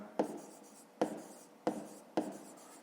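Chalk or a marker writes on a classroom board during a math lesson in four short, evenly spaced strokes. Each one starts with a sharp tap and tails off into a scratchy rub, close and clear, with no talking.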